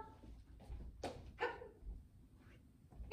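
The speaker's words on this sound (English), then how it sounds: "My dog needs to go out." A dog is heard indoors, with a few short barks or yips spaced irregularly over a quiet background, fairly close and moderately loud, with no speech.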